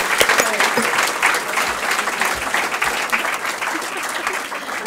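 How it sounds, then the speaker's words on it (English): A roomful of people applauds students at a school board meeting, brisk dense clapping with a few louder individual claps near the start, staying even throughout. "let's give these well-deserved students a round of applause"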